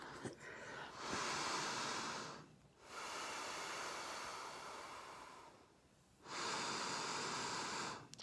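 Airy whistling hiss through a nostril during breathing, two long breaths in and out with a soft rasp, close up and fairly quiet.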